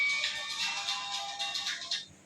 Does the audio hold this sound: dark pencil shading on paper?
no